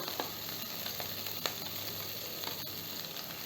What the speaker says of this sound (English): I am going to add some onions.